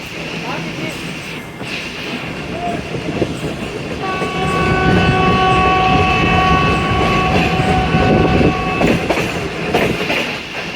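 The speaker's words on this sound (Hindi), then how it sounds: "सिंगल हॉर्न चल रहा है" A train rumbles past at close range while a long, steady single-tone train horn blares for several seconds, with faint voices around.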